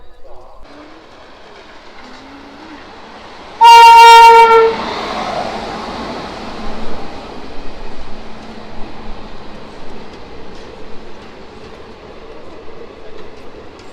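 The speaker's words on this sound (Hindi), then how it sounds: "हमारी ट्रेन निकल चुकी है" A passenger train pulling out of Una in Himachal sounds one loud, steady horn blast of about a second, followed by the low rumble and clatter of the moving train, which continues faintly to the end.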